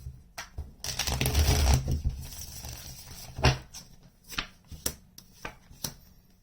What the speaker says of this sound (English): Let's get one more shuffle